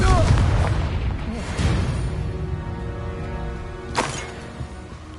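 A Confringo spell explosion in Hogwarts Legacy bursts loudly at the start, followed by rumbling and a second sharp blast near the end, with a voice present.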